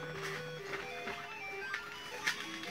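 Sonic Triple Trouble game music playing from an AtGames Sega Genesis Flashback, a faint chiptune melody of bright synth notes with soft blips, heard alone.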